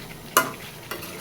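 Meat stirred in a hot pan with a little cooking liquid gives two quick scraping clatters over a faint low sizzle, close by and brief.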